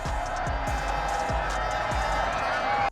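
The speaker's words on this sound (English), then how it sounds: "the Netherlands won 2-0 and clinched their first ever European Championship title as the crowd erupted with joy" A football crowd roars in celebration as the Netherlands win the Euro 1988 final 2-0; the steady, dense cheering holds at the same level throughout, with a few dull low thuds underneath.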